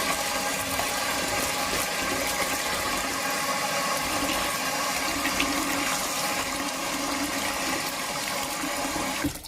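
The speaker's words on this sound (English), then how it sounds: "We're gonna wash it and strain it about 3 to 4 times." Water splashes and rushes steadily as sea moss is washed and strained, a continuous close wash of sound with no talking.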